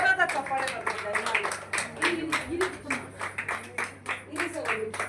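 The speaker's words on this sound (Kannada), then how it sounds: "ಜೋರಾದ ಚಪ್ಪಾಳೆ ಬರ್ತಿದ್ದಾರೆ" Scattered clapping at a singing award ceremony, with claps landing as sharp bursts over a steady low hum while voices carry on underneath.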